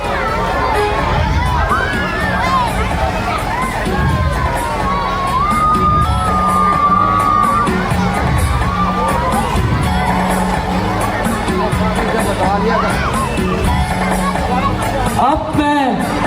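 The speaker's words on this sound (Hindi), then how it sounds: "चलो जोरदार तालियां।" Large audience at a Ramleela opening ceremony cheers, whoops and claps loudly for a sustained stretch, with children's shouts and crowd babble blended into a dense, continuous roar.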